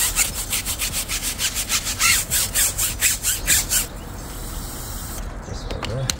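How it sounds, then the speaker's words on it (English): A brush scrubs a car tire during detailing in direct sunlight, making rhythmic back-and-forth rubbing strokes close up for about four seconds, followed by a quieter hiss that sounds like a spray. "I want to scrub this tire."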